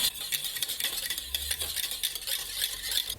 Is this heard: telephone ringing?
no